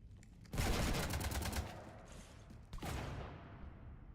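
Rapid bursts of automatic gunfire from the video game Mass Effect 3, a sustained volley followed by a second shorter burst that trails off, fairly quiet overall.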